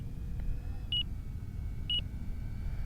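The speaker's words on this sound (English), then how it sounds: "I think that's my 5-minute timer." Five-minute flight timer for a 1.5 m Beechcraft D18 RC plane, giving two short electronic beep bursts about a second apart over a low rumbling outdoor background.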